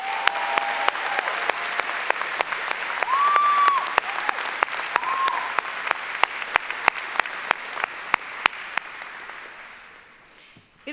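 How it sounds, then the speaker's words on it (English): Sustained applause from a large crowd at an Ithaca College commencement ceremony, steady clapping that holds for several seconds before tapering off at the end. "Can we give Anna another round of applause?"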